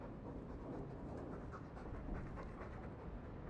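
Mabari war hound panting in Dragon Age 2, a steady rapid breathy rhythm held close and soft for a few seconds with no other sounds.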